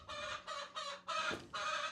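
Hens clucking close by in a steady stream of short, overlapping calls, with brief pauses between bursts and no talking.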